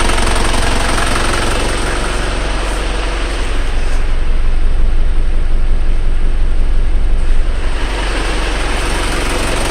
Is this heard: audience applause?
no